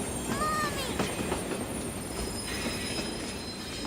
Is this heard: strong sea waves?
no